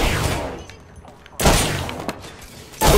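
Gunfire in the video game Apex Legends on PS4, loud bursts of rapid shots in two or three clusters, close and heavy, with a brief quieter gap between them.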